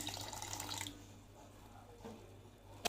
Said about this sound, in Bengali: একটু জল দিয়ে দিলাম